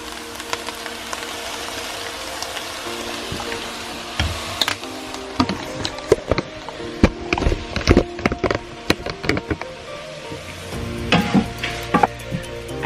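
A frying pan of sauce being stirred, with soy sauce about to go in, gives a steady close sizzle under repeated scraping and clacking strokes of the utensil, with no talking.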